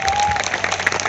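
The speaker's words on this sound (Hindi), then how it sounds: "सो एक बार जोरदार तालियां श्रीवास्तव जी के लिए।" A hall full of people claps loudly and steadily for Srivastava ji at a Vestige gathering, a dense wash of hand claps lasting about a second.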